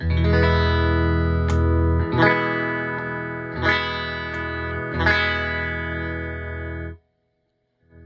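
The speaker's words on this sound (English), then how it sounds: "So I can get 6 different tones out of this guitar with a single pickup." A Fender Esquire single-pickup electric guitar played through a tweed Deluxe 5e3 clone amp rings out in sustained, overdriven chords, struck four times at a slow pace, each sustaining before the sound cuts to silence near the end.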